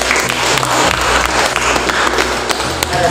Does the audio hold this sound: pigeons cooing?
no